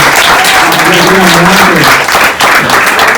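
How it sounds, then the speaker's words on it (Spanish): A church congregation marking its tenth anniversary bursts into loud, dense applause that fills the hall steadily, with a brief dip near the end and voices mixed in. "Le demos un fuerte aplauso al Señor"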